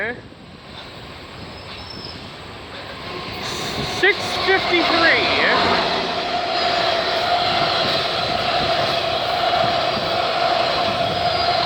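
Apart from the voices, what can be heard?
GO commuter train approaching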